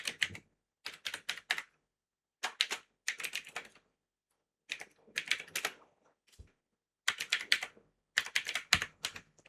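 A computer keyboard clatters as an email address is typed, in quick bursts of keystrokes separated by short pauses, close and clear with no talk.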